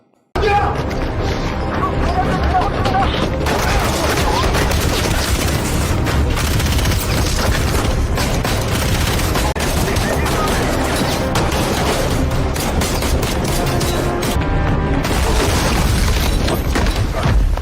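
Dense, loud bursts of gunfire and booming impacts in rapid succession, a chaotic firefight with crashes and explosions throughout.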